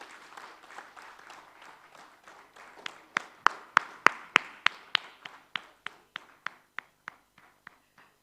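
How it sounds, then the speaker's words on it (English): Audience applause at a food policy report launch, starting as soft scattered clapping that turns into a run of slow, sharp, evenly spaced claps, loud and close, then tapering off. "A big round of applause,"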